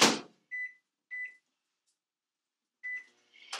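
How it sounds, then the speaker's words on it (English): A microwave oven warming a frozen ingredient in a glass container gives a sequence of short beeps, three early and one more near the end, separated by near silence, with a door-like clatter closing the sequence. "I'm going to microwave this for 10 seconds"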